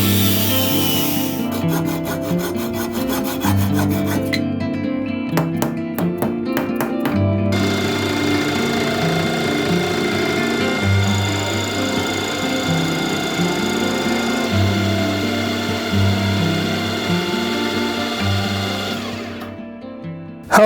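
A billet aluminium block is sawn into smaller pieces, a steady, loud grinding and rasping cut that runs unbroken for about twenty seconds with shifting tonal whine, no voices.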